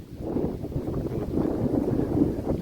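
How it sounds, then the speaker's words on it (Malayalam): Steady wind buffeting a microphone at the hilltop Anakkara Mettu viewpoint in Kerala's high ranges, a low continuous rumble that swells and dips throughout, with no voices. "നല്ല കാറ്റ്"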